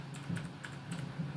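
Quick, light keystrokes on a computer keyboard as a mobile number is typed in, faint and close, with no one speaking.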